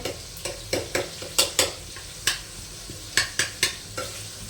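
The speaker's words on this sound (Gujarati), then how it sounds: "ઝીણું ઝીણું એપલ કટિંગ કર્યું છે એ આપણે નાખવાનું છે તેલમાં" Finely chopped apple frying in hot oil in a pan, with a steady sizzle under repeated sharp scraping stir strokes at an irregular rhythm, close and moderately loud.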